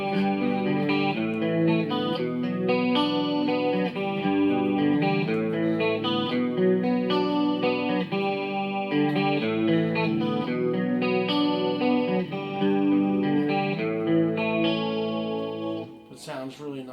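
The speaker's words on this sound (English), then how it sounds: "this is the deep shimmer reverb that I like on this" Electric guitar chords and melody through a Boss GT-1000 deep shimmer reverb ring out with a lush, shimmering tail that adds high, airy overtones, playing continuously and loudly.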